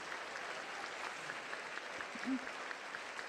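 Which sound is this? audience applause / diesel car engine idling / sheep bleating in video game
audience applause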